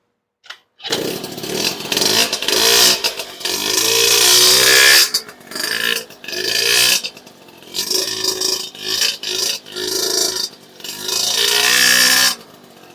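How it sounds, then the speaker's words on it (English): A Honda Express SR moped with a four-stroke engine and a 112 kit on an unjetted carburetor revs up loud and close, in repeated bursts with brief drops between them. "As I said, you can really hear the 4-stroke in there."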